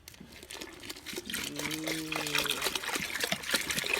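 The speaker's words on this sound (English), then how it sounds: "once it's shooken, you pour that into your glue" A thin stream of liquid trickles and splashes into a container of glue for homemade slime, steady and close, with a brief gurgling rise partway through.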